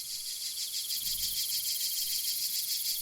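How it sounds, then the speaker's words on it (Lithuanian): Cicadas in a jungle at night trill in a steady, dense, high-pitched pulsing drone that runs unbroken and evenly loud throughout, with a faint low rumble briefly beneath. "o cikados naktį griežia koncertus."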